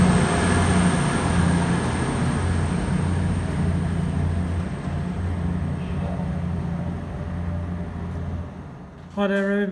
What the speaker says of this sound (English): This is the Class TTT leaving Market Harbour platform 1 going to Leicester or up to Sheffield in platform 1